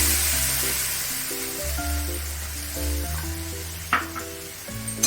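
A tomato, cashew, ginger and green chilli paste fries for kadai paneer with a soft, steady sizzle and a few clinks of stirring, while melodic background music plays over it.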